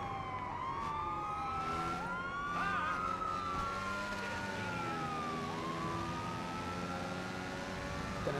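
Ambulance siren in the video game Watch Dogs 2, a wailing tone sweeping up and down repeatedly, steady and moderately distant beneath street traffic rumble.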